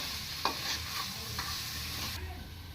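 Crab curry is stirred in a pan over a low flame. A soft steady sizzle runs throughout, with a few faint scrapes of the spoon, close but quiet.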